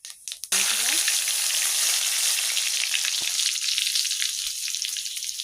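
Panch phoron spices fall into hot oil in a kadai with a sudden loud burst of sizzling, and the crackling hiss then holds steady and eases slightly, with a brief clatter at the start.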